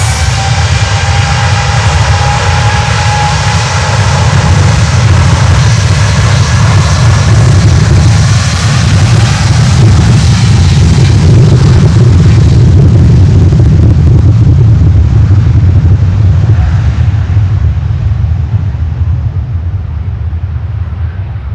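Heavy cargo jet taking off at Miami airport, a loud, steady low roar of engines filling the whole stretch and slowly fading as it climbs away.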